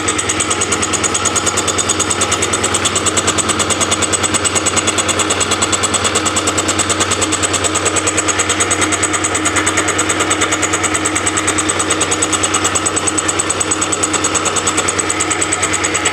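A milling machine skims a cylinder head taken off a tractor, taking a very fine cut. A steady, even mechanical hum and whir runs continuously at moderate loudness, with no talking.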